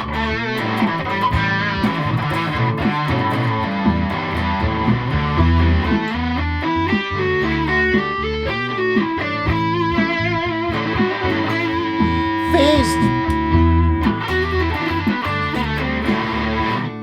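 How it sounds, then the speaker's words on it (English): A Gibson Les Paul tribute electric guitar played through distortion, thick sustained chords and riffs ringing continuously and loudly close up for the whole stretch, with no voices. "Doesn't make as much difference with the distortion on."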